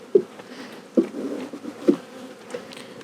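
Honey bees buzz around hive frames during a spring colony split, a steady close drone with a few soft knocks as the bees are shaken from the comb.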